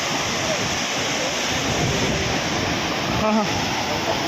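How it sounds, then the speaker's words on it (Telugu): Tarabu waterfall in Alluri Sitarama Raju district near the Odisha border roars as a dense, steady wash of falling water, loud and continuous, with a brief faint voice near the end. "Alluri Sitharaman district తారాపు water falls ఇట్లా ఉంటుంది అన్నమాట"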